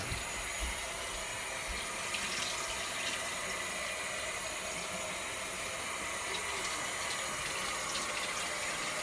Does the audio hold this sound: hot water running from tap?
yes